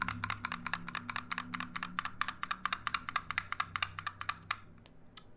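Typing on a $440 custom camo Filco mechanical keyboard, a fast, uneven run of loud clacking keystrokes close up, with no talking.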